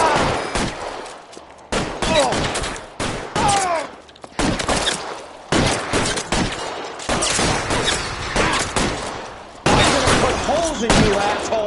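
Gunshots in L.A. Noire ring out in sharp, repeated volleys, some single cracks and some clustered bursts, loud and close, with voices speaking between the shots.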